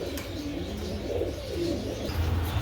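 Racer pigeons coo close by in soft, rolling low calls, several overlapping phrases over a few seconds, with a faint chirp and light background noise and no talking.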